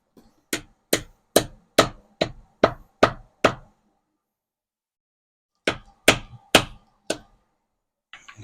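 Backyard blacksmith hammering a hot metal piece flat on an anvil: a run of eight sharp, evenly spaced ringing blows, a pause, then five more strikes, loud and close.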